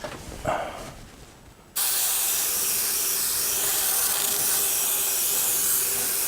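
A Tamiya Spraywork HG airbrush sprays paint in a steady, close hiss that starts suddenly after a moment of quiet handling and runs continuously to the end.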